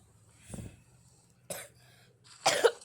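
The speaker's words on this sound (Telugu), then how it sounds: "ఇంత దగ్గు జలుబు ఎందుకు రా నాకు" A person with a cold coughs three separate times, the last burst harsher and doubled, close and clear over a faint low hum.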